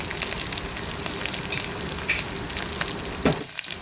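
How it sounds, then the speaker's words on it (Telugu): Crushed garlic cloves and tempering spices sizzle in hot oil for a purslane dal, a steady close crackle with a few sharper pops and a brief stirring scrape near the end, no voices. "ఇంకో గిన్నెలో మనం ఆయిల్ తీసుకొని సరిపడా మనం దంచుకున్న వెల్లుల్లి రెబ్బలు అలాగే తాలింపు దినుసులు ఏవైతే ఉన్నాయో అవన్నీ వేసేసుకొని బాగా ఎర్రగా వేయించుకోవాలి"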